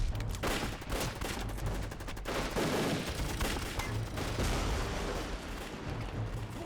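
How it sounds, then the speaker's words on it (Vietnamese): Dense gunfire rattles without pause through a battle scene in an anti-Japanese resistance war action drama, with overlapping rapid shots and heavy booms, loud and continuous, with no talking. "Chuẩn bị, khai hỏa."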